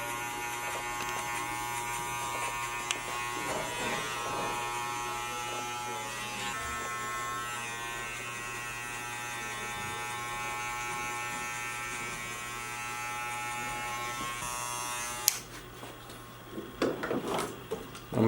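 Electric hair clippers with a closed half guard buzz steadily and close up while cutting a fade up from a bald guideline, a constant motor hum with shifting tone as the blade moves, cutting off near the end.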